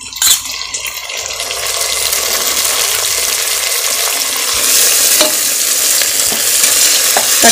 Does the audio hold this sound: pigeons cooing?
no